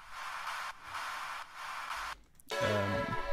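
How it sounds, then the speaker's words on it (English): Bursts of hissy sidechained white noise in a future bass drop pump rhythmically, ducking in and out on the beat, then a tonal synth sound takes over. "then there's just some sidechain white noise"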